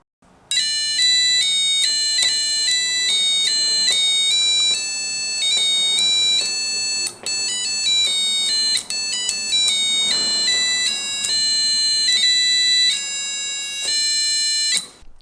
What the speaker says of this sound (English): Sound is produced by simple buzzer.